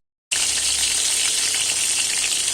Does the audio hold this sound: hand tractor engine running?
no